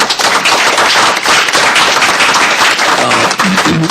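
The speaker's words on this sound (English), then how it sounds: "Let's give ourselves a round of applause" A council meeting audience breaks into a loud, dense round of applause that stays steady through the whole stretch, with a few voices emerging near the end.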